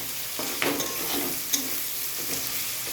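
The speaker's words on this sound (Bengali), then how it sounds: "পেঁয়াজটা একটু ফ্রাই হয়ে যাক হালকা" Onion frying in oil with a bay leaf and whole garam masala, a steady close hiss of sizzling with a couple of soft spoon stirs and one small tap.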